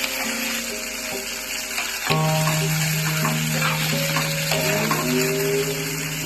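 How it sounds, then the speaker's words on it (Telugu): Onions and small tomatoes fry steadily in a pan for a paneer and green peas curry, a dense continuous sizzle with a tonal hum and light stirring scrapes throughout. "ఉల్లిగడ్డలు మంచిగా మగ్గిన తర్వాత చిన్న టమాటాలు వేసుకోవాలి."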